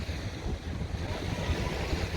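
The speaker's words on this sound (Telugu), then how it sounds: "అలలు ఫుల్గా వస్తున్నాయి చూడండి" Waves wash onto a beach at Abu Dhabi on New Year's Eve in a steady, rumbling surge, with gusts of wind buffeting the microphone.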